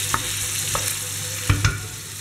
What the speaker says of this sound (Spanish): cuando el aceite esté templado caliente, echamos la cebolla. Y esto lo rehogamos un poquito